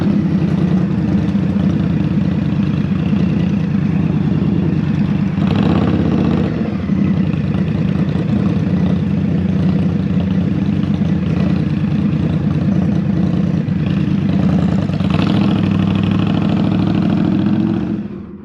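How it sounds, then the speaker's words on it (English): An Indian Scout Rogue motorcycle engine runs steadily at low revs, lugging through city streets in Manhattan, a loud close continuous rumble with no talking, cutting off at the very end. "I'm gonna lug the engine there a little bit."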